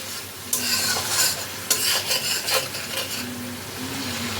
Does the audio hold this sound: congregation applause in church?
no